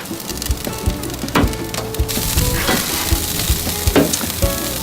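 Spicy seasoned burgers sizzle and fry on a BBQ grill, a steady dense crackle with scattered sharper pops and spits throughout, close and fairly loud with no talking.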